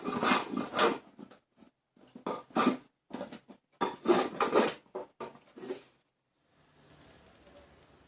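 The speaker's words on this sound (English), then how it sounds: "I'll first show myself using my plane on the handle for the hammer" A hand plane shaves a wooden hammer handle in repeated rasping strokes of about half a second each, close and crisp, with short pauses between them and then a quiet tail.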